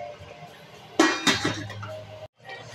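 A metal lid is set onto a cooking pot of Ilokano dinengdeng with squash blossoms, giving a sharp clink followed by a second rattling knock and a brief settling ring, close and fairly loud.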